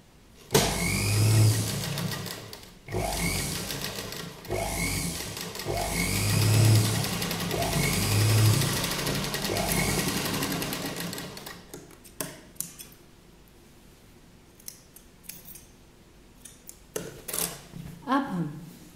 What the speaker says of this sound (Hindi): अब हम ये सिलाई लगाएंगे और यहाँ पर ऐसे मुड़ जाएंगे।